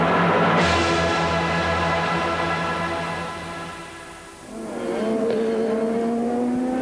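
IndyCar race cars at the 1995 Miami Grand Prix scream past with high, sustained engine whines, one car dropping away midway before another revs up with rising, shifting pitch, all loud and close.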